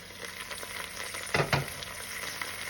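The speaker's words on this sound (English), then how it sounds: "I added a little bit of oil, and I am just going to cook the tomatoes and the onions just a little bit" Tomatoes and onions sizzling and frying in a little oil in a pot, a steady quiet crackle with a brief louder burst of stirring midway.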